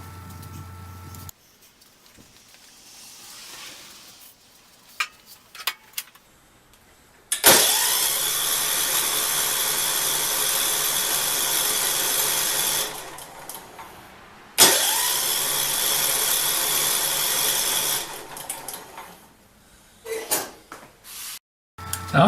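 A lawn mower engine cranks on its electric starter after a dose of starting fluid, in two long loud whirring bursts separated by quiet pauses, with a few clicks and knocks in between.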